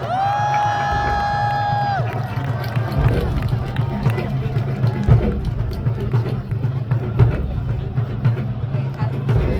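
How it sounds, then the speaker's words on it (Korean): A large outdoor crowd at a presidential campaign rally in Seoul Plaza applauds and cheers steadily, a broad sustained wash of clapping and shouts with a brief musical tone at the start. "여러분 다시 한번 큰 박수 부탁드리겠습니다"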